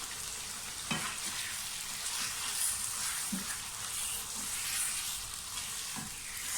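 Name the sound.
chicken frying for chicken korma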